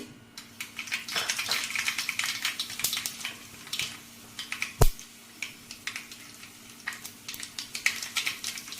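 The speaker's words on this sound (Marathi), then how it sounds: "तेल तापलंय, आता आपण टाकू यामध्ये राई" Mustard seeds dropped into hot oil in a pan, giving quick, scattered crackles and pops over a faint sizzle, with one sharper clatter midway.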